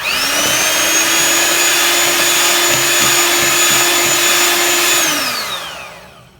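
An electric hand mixer whirs loudly and steadily through oil and sugar for carrot cake batter, a close sustained motor whine that winds down and stops near the end.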